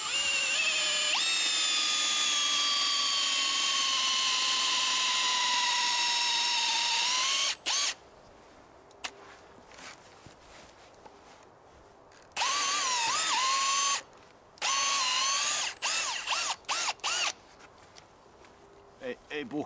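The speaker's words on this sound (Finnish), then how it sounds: "Ripustus rautalankaa varten poran reijän 14 mm kierukka poralla." A power drill with a 14 mm auger bit bores a hole through an owl nest box made from a wooden log, whining steadily for several seconds, then stopping before short bursts of drilling, with handling noises between.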